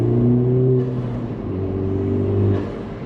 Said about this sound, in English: now when you touch the throttle, you can tell that it is responding quicker to my foot input